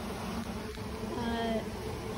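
Bees on a hive rescue buzz in a steady low drone, with a brief higher whine passing close by midway.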